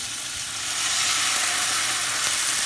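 Fish stock and white wine hitting a hot pan, a loud close steady sizzle and hiss that swells after the first half second and holds evenly, no voices.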